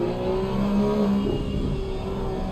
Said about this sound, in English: Listen to the sound of that gearbox. Those engines pushing so hard.